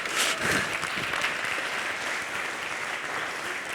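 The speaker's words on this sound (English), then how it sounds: "Can we have a round of applause for Daniel, please?" A conference audience at PyCon UK 2019 lightning talks gives a round of applause for a speaker, loud dense clapping at first that gradually thins and softens over several seconds.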